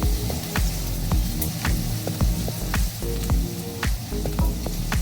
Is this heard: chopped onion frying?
yes